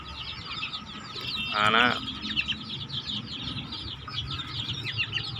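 Farm chickens and chicks cluck and peep in a steady busy chorus, with one louder squawk standing out briefly amid the flock near the listener.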